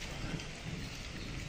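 Light rain falls outdoors at night, a soft, steady hiss of drops with no talk over it.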